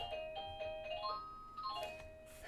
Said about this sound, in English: That doorbell is something else